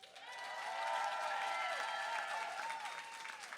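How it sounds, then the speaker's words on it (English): An audience applauds the designers at a runway fashion show, the steady clapping swelling quickly and holding at full strength for several seconds, with faint tonal sounds running underneath. "I want to do a big round of applause for all our designers."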